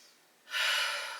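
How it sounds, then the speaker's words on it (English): A single deep inhale and exhale during a slow hatha yoga stretch, a soft breathy rush that swells suddenly and tapers off, close and alone in a quiet room. "Deep breath in and out."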